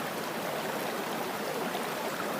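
Steady, rushing flow of a stony river running across a wilderness track in Siberia, a continuous broadband wash of water close by with no voices.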